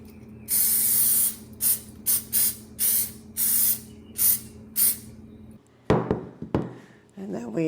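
Aerosol cooking spray hisses onto a baking pan for challah bread in a home kitchen, about eight short close bursts, then a few clattering knocks of the pan.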